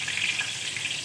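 Bay leaves and whole spices sizzling in hot oil as tempering for a mustard fish curry, a steady bright hiss with no voices.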